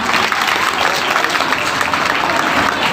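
At a PGC farewell event in 2022, an audience claps loudly and continuously to welcome an honoured legislator onto the stage, a dense, unbroken wall of applause with crowd murmur beneath.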